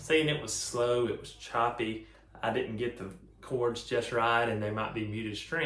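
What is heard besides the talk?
None of the usual background noises is heard.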